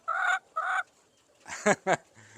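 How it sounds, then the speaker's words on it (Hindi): Lohmann Black laying hens cluck while feeding, giving two short harmonic calls followed by a few louder, sharper squawks, close by, with no voices. "लोहमन ब्राउन, लोहमन ब्लैक, वो ब्राउन पीछे लगी हुई है, ये सारी ब्लैक लगी हुई है माशाल्लाह से। अभी खुराक ले रही है।"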